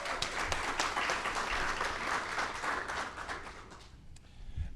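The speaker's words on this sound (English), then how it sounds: "I think we should give Atlanta a round of applause for that." An audience at a press conference for a college football bowl game gives a round of applause, steady clapping that fades out toward the end.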